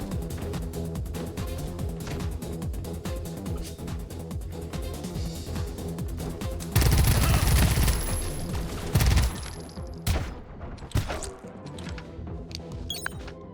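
Snipers firing in the totalitarian shooter colony game Pax Autocratica, a dense stream of rapid cracking shots that swells into a heavier burst of fire before thinning out to scattered reports.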